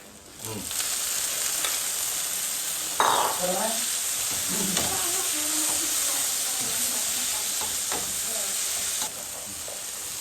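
Tomato hitting a hot frying pan already holding garlic, a loud steady sizzle and hiss that swells as it goes in, with a few stirring scrapes over the constant frying noise.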